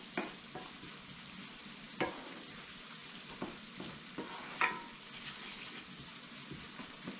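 Onions cook in butter in a pot, giving a quiet, continuous sizzle with occasional stirring scrapes and clicks from a utensil, close up and soft, with no voices.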